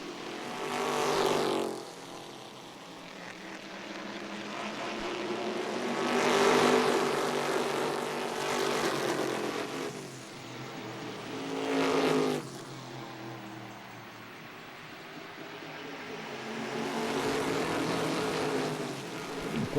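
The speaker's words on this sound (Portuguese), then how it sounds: "Temos 7 carros nesse pelotão aí andando juntos" A pack of seven Stock Car race cars from the 2006 season runs together at the Londrina circuit, engines swelling and fading in repeated passes, loud and droning with rising and falling pitch.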